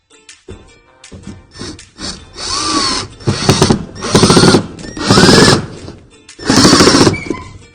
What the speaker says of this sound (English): one more time, I'm gonna drive screws